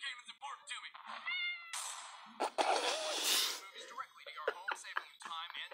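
A cat meows several times, with a high-pitched drawn-out cry in the middle, close and clear, mixed with brief breathy sounds.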